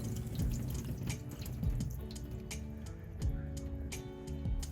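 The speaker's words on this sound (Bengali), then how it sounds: "পানি দিয়ে একবার ধুয়ে নিয়ে তারপর মগজটা হাত দিয়ে একটু পরিষ্কার করে নিব" Goat brains being rinsed with water: irregular drips and small splashes over a low steady hum, quiet and close.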